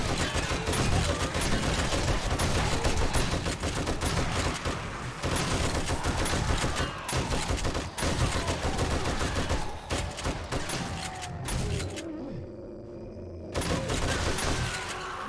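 Dense, relentless gunfire in the zombie-survival game 7 Days to Die, bursts of automatic fire and rapid shots running nearly nonstop with a brief pause near the end, loud and close.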